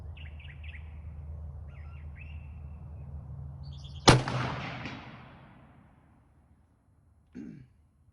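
A single loud, sharp shot from a Remington M1903A4 rifle rings out against a low background hum, trailing a long fading echo, with a brief faint thump a few seconds later.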